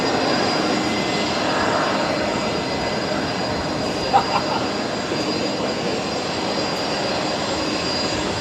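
Airbus A380 jet at Brisbane Airport, a steady broadband engine roar that stays at a constant level throughout, with a couple of brief faint knocks partway through and no talk.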